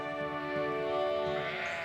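A flock of sheep bleating together out on enclosed common pasture, overlapping calls rising and falling in a steady chorus, fairly close with no talk over them.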